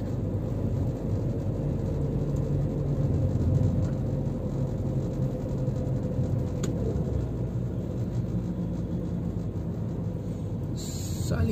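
A car engine rumbles steadily from inside the cabin while driving through the streets of Cerquilho, São Paulo, a low continuous hum with mild swells under faint road noise.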